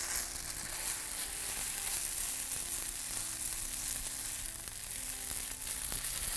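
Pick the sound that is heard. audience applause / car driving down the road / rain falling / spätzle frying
spätzle frying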